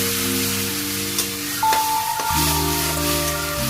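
Taro greens hit a hot pan of oil in a home kitchen, giving a steady broadband sizzle that holds for a few seconds, close and fairly loud, with no talking over it.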